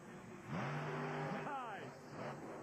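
A 1,500 horsepower monster truck engine revs hard during a freestyle show in Detroit, roaring and rising in pitch over crowd noise and an announcer talking over the arena sound.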